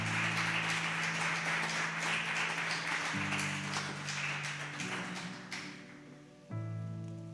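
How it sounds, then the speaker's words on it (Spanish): A church congregation applauds, a steady patter of many hands clapping together, moderately loud and crowd-wide, with sustained organ or keyboard chords playing underneath. "¿Le da un aplauso al Señor?"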